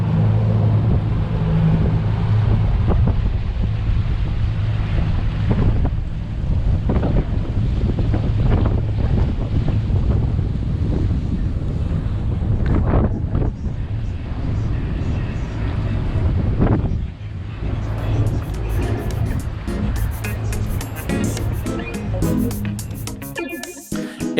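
Boat cruising slowly along the intracoastal waterway, with constant loud wind buffeting against the microphone over engine and water rush, running the whole time with no clear talking.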